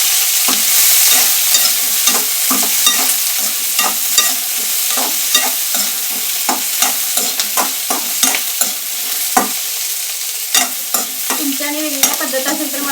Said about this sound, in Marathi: आवाज येत असेल बघा, तर उडायला लागेल मिरची